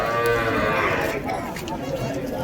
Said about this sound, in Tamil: ஸோ இங்கே ஒரு ஜோடி கன்றுங்க நிற்கிது பாருங்கள்.